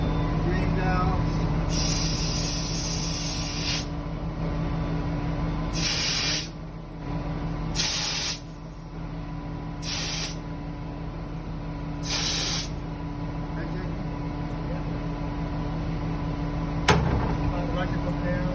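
Short bursts of compressed air hiss from the air tank drain valves on a school bus during a pretrip inspection, about five separate releases over a steady engine idle hum.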